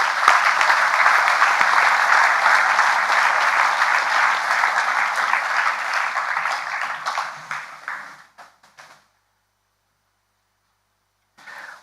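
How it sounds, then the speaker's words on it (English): Sustained audience applause at a school awards evening for Years 7 to 10, a dense wash of many hands clapping that fades out around eight seconds, followed by silence and a brief return of sound at the end. "Please give them another round of applause."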